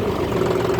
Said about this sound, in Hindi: तो अपन करते हैं स्टार्ट।